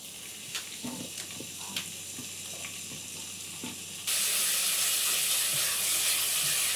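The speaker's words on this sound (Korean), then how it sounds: "한 숟갈 둘러서 돼지고기를 볶으면 되는데" Pork stir-fried in a spoonful of oil in a pan. A quiet sizzle with scattered pops and clicks builds until the meat goes in, then the frying suddenly turns into a loud, steady, close roar.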